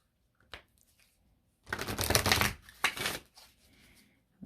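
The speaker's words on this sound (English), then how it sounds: "Let's get a couple of shuffles here." An oracle card deck from the Moonology line is shuffled by hand, with a faint tap at first and then a loud riffling burst followed by a few shorter shuffles, close up with no talk.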